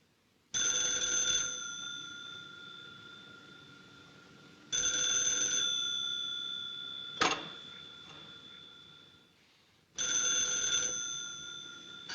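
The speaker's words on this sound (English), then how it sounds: "it isn't the clock, it's the phone." An old telephone bell rings in three long, loud bursts separated by pauses, with a brief sharp knock between the second and third rings and no talking.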